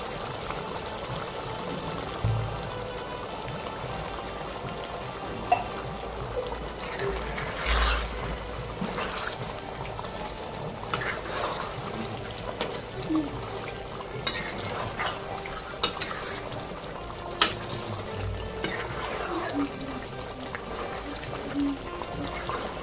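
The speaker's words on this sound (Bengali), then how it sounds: "এখন চিকেনটা কষা হচ্ছে" Chicken being sautéed and stirred in a pot for biryani, with a steady frying sizzle under scattered metal spoon scrapes and clinks on the pot over a long stretch.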